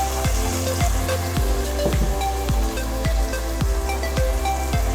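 Red capsicum frying in a hot pan of vegetable biryani, a steady loud sizzle with regular stirring scrapes and clinks repeating about every half second.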